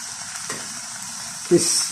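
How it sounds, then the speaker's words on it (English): Vegetables frying in a pan while slow-cooking lamb, a steady close sizzle throughout with a brief louder burst of hissing and clatter as more food hits the hot oil near the end. "Pour in our lovely veggies."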